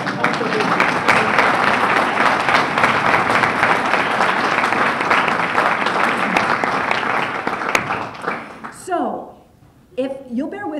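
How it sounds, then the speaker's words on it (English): Loud, dense audience applause fills a campus town hall, sustained for several seconds before tapering off as a speaker's voice returns near the end. "Bernie wants to clap."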